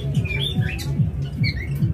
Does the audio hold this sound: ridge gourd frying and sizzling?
no